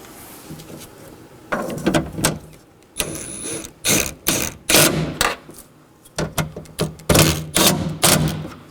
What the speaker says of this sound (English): To snug these up, I will be using my 10mm.